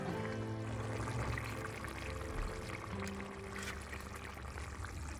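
Snakehead fish curry broth boils in a pan with a continuous soft bubbling and gurgling, fairly quiet and steady.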